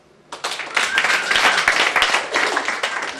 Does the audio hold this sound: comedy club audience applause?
yes